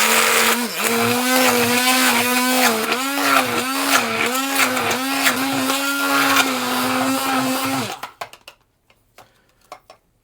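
A blender whirs loudly for several seconds blending fat-free small curd cottage cheese, its pitch wavering as the contents churn, then cuts off, leaving a few clattering knocks.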